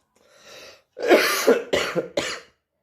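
A person coughs several times in quick succession, harsh and close, after a softer breathy clearing of the throat.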